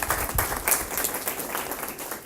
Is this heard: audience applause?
yes